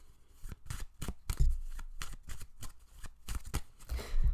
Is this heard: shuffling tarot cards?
yes